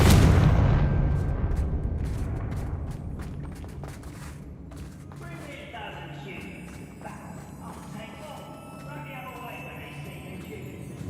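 Confringo spell blasts in Hogwarts Legacy, with a loud booming explosion rumbling at the start and fading, followed by scattered crackling impacts, debris and ringing game effects.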